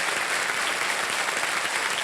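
Studio audience on a televised quiz show applauds, a dense, steady clapping that fills the space evenly from start to finish.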